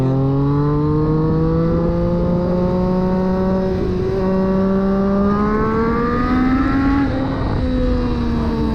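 A 2020 Triumph Street Triple RS motorcycle engine revs up through its exhaust, pitch climbing steadily in a loud, close, buzzy roar that rises and eases in waves.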